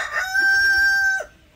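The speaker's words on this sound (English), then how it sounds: "we have some entertainment in the rooster section here too" A rooster crows on a farm with goats: one loud, close cock-a-doodle-doo with a sustained, wavering middle note, heard alone and ending abruptly after about a second.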